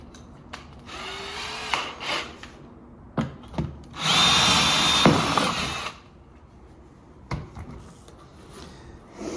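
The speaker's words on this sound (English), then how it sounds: "I can actually drill up to there" Power drill boring up into a butcher block countertop from underneath in a basement, with a loud sustained whine of about two seconds between handling clatter and shorter bursts, and no talk.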